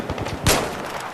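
A single loud, sharp sniper rifle shot from the video game Battlefield 3 cracks out near the middle of the clip, over a low rumbling in-game background.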